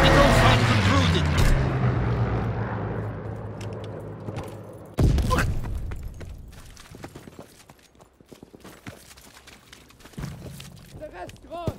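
In Call of Duty: WWII, a fighter plane makes a strafing run: a loud roar and burst of fire fade away, then a sharp boom hits and is followed by scattered distant gunfire and thuds.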